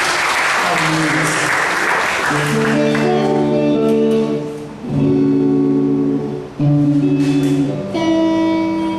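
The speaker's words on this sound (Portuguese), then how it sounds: "você pode aplaudir esse Deus maravilhoso" An audience at a Christian youth gathering applauds loudly at first, the clapping fading as sustained keyboard chords rise and hold underneath.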